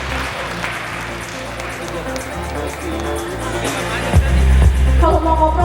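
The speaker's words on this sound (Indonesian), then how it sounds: "berikan tepuk tangan paling meriah untuk Mas Eri" An audience in a hall claps for a speaker coming onto the stage at the IIMS 2025 launch, with steady, crowd-wide applause under a droning background tone that swells louder near the end.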